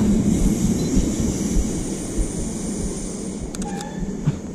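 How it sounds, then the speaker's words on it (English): A steady low rumble of a passing train in Killiney, Dublin, continuous and moderately loud, with faint squeals and clanks near the end. "Oh, I hear a train."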